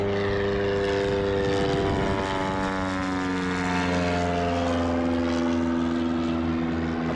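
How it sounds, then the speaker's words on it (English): A Husky airplane flying at a competition event, its propeller engine roaring loud and continuous overhead, with a steady droning tone that rises slightly in pitch as it approaches. No talk is heard. "I'm listening for that roar of that Husky."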